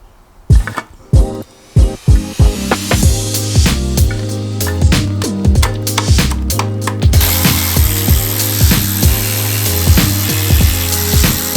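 A ratchet wrench tightens oil pan bolts on a Nissan S14 engine with a new gasket, producing rapid, loud, close metallic clicking bursts in repeated strokes, with brief pauses between pulls.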